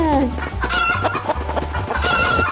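Chickens in a video game cluck busily and let out crowing calls, loud and close, filling the whole stretch without pause and with no one talking.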